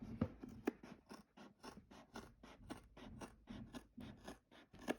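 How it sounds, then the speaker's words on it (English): Scissors trim vinyl close to the stitching on a two-slot credit card holder, a quiet run of rapid, rhythmic snipping cuts, close and faint with no voices. "trim all the way around, getting as close to the stitching as possible"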